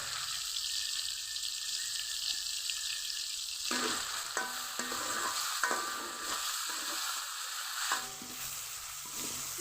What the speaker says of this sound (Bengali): টমেটো আর পেঁয়াজ কুচি কিছুক্ষণ ভেজে নেব